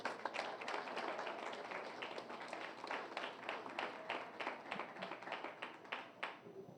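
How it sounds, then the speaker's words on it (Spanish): Church congregation applauding, many hands clapping in a quick, fairly even rhythm that runs throughout, heard faint and distant. "Denle un aplauso fuerte al Señor"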